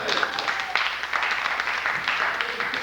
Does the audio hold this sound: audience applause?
yes